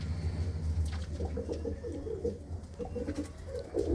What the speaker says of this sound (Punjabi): ਆਹ ਕਬੂਤਰ ਦੀ ਗੱਲ ਕਰਦੇ ਆ ਬਾਈ ਵਜੂਦ ਦੇਖੋ ਕਬੂਤਰ ਦਾ